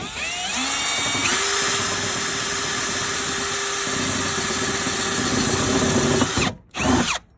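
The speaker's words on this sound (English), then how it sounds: "I'm going to go ahead and mark and drill that hole" A power drill whines steadily for several seconds while drilling a bolt hole for a battery tray in a 70 series 4x4, then stops and briefly spins up again, loud and close with no talking.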